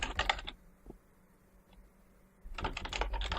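Bursts of typing on a computer keyboard, close and brisk: a short flurry of key clicks, a quiet pause with a couple of isolated taps, then another steady run of keystrokes.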